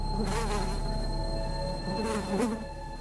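Flies swarm inside a house, a close, droning buzz that rises and falls as individual insects swoop near, with two louder passes standing out over the steady hum.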